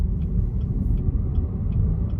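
A manual-transmission car creeps along in first gear, its engine a steady low rumble heard from inside the cabin, close and continuous, with faint regular ticks above it.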